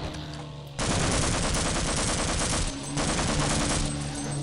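Rapid repeated weapon fire from a grenade launcher in the video game Half-Life: Opposing Force, a loud dense burst of shots starting abruptly, briefly dipping, then resuming.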